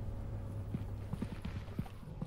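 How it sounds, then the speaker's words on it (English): Heavy footsteps in a video game, a string of faint, irregular thudding steps under a steady low hum. "I hear very heavy footsteps"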